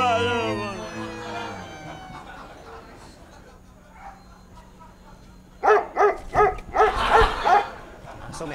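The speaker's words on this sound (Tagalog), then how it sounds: "Aso, may aso." Several sharp, loud dog barks in quick succession near the end, following a stretch of singing and talk in a Filipino sitcom household scene.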